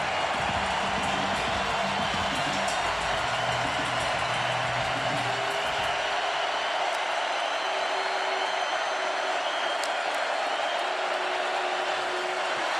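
A college football stadium crowd at a Texas vs. Kansas game roars in a broad, steady wash of cheering that never lets up, heard from afar under a commentator's voice.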